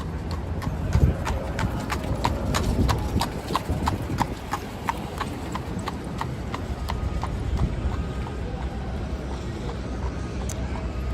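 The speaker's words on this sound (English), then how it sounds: "They got the horse and carriage." A carriage horse's hooves clip-clop at a steady walking rhythm on a New York City street near Lincoln Square, a clear, evenly spaced beat over busy traffic rumble, with faint voices nearby.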